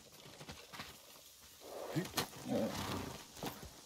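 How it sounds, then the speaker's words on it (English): A horse arrives in the video game Ghost of Tsushima, its hooves clip-clopping faintly in a short burst under a voice, over a quiet game background. "Here, come here, come here, horse."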